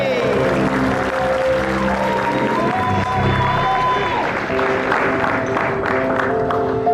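A studio audience at a comedy talk show claps steadily throughout, a thick wash of applause mixed with some cheering under overlapping voices and musical tones.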